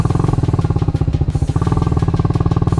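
A TVS Apache RR310 motorcycle runs with its dB killer removed, giving a loud, steady idle of rapid, evenly spaced exhaust pulses close to the microphone, with no one speaking over it.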